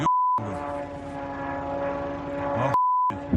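Unmanned drone flying overhead above Mariupol during an air-defense engagement, moments before being shot down: a loud, steady, buzzing engine drone sustained for a couple of seconds, framed by short electronic beep tones at the start and end.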